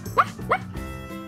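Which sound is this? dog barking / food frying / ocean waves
dog barking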